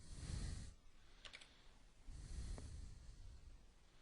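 Keys on a computer keyboard tapped in a few short, faint bursts of clicks separated by pauses, over a quiet room hiss.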